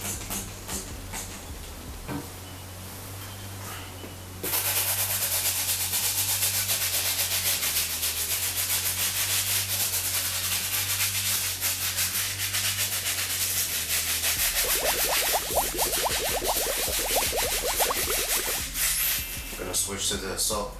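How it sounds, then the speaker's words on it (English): A stiff bristle brush scrubs the outsoles of metallic red Nike Foamposite sneakers with cleaning solution, a continuous loud close-up rubbing that starts after a quieter opening and runs steadily to the end. "we're gonna start on these outsoles using the FZ150 and our stiff bristle brush"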